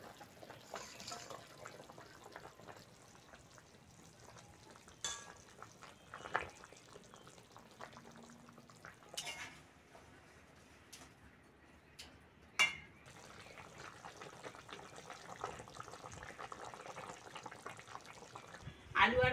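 Fish curry with potato and pointed gourd bubbling in a pot as fried fish is added, with faint continuous boiling and a few sharper splashes and clinks, mostly alone at low level.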